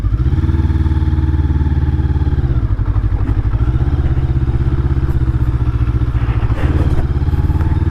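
An SM Sport SM3 cruiser motorcycle engine runs steadily on the road, a loud, continuous low rumble with rhythmic pulsing and a slightly uneven, stumbling idle-like beat throughout, no voices.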